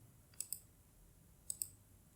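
Mouse clicks on a game character in a code editor: two pairs of sharp, close clicks, the first pair near the start and the second about a second later, over a quiet hum with no talking.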